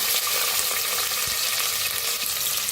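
Mustard seeds, cumin and chopped onion sizzle loudly in hot ghee for masala rice, a close, continuous bright crackling fry with faint stirring, no speech.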